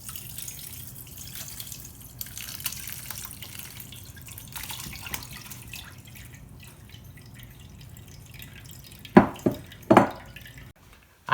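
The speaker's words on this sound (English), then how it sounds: "now I'm going to take a cheesecloth lined sieve and pour them in and let them drain." Violet infusion for jelly draining through a cheesecloth-lined sieve, heard as a soft steady trickle with faint drips, followed near the end by a few louder splashing pours.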